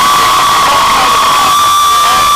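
A dense stadium crowd cheers and roars at a FAMU home game against Alabama State in Tallahassee, a loud, continuous wash of voices with shouts and whoops rising from it.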